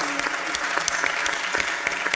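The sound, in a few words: audience applause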